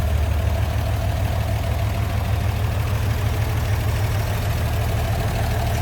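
The inline-six engine of a 1949 GMC 5-window pickup idles smoothly and continuously, a steady low rumble heard up close with no talking.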